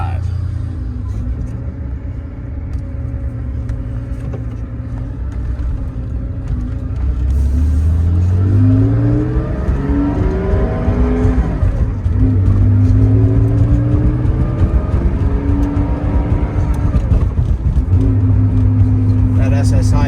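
A throaty SSI aftermarket exhaust on a 1983 Porsche 911SC rumbles from inside the cabin, its deep engine note climbing repeatedly as the car accelerates through the gears.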